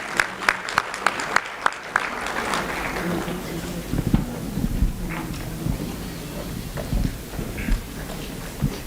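Applause from a school awards day audience in Nairobi, opening with a few loud distinct claps close by, then spreading into a dense, moderate round of clapping with faint voices beneath it.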